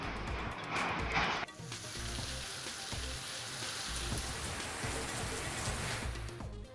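Heavy monsoon rain pours down in Sinnar, a dense, continuous roar of drops drumming on surfaces, loud and unbroken throughout with a brief brighter splash near the start.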